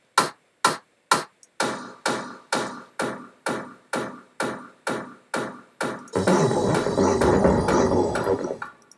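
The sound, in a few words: thick distorted clap sounds in a music track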